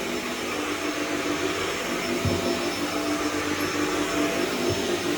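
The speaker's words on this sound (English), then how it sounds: "Vacuum's empty. Got some nice suction on the carpet there." A carpet-cleaning vacuum pulls hard at a carpet, giving a loud, constant roaring whine with a steady hum underneath that holds through the whole stretch.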